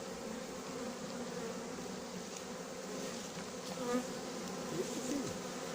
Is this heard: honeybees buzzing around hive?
yes